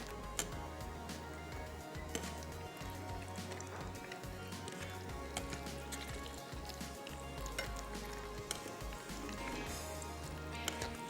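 Chicken for a grilled panini frying on a high flame, a steady loud sizzle running unbroken throughout with small crackles and pops, alone without talk.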